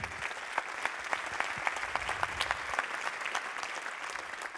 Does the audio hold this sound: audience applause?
yes